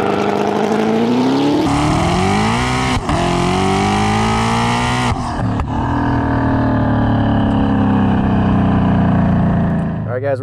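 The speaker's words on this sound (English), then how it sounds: "we're going to demonstrate the launch control with traction control activated" A 2020+ Shelby GT500 with a MoTeC M150 system makes a launch control start on a cold track with cold tires and traction control on. The engine roars loudly, its pitch climbing through gears over about ten seconds.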